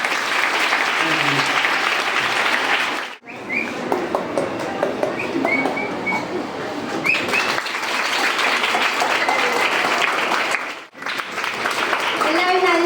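Sustained applause from an audience at a Kerala government higher secondary school event closing a reading month and inaugurating clubs. It runs steadily throughout with brief dips, and voices and crowd noise are mixed in.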